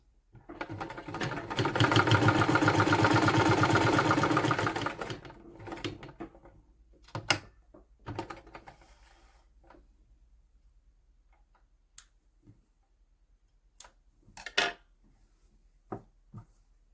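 A sewing machine stitches a suit sleeve in a steady, fast mechanical whir for a few seconds, close by. Isolated clicks and taps of handling the fabric and machine follow in near silence.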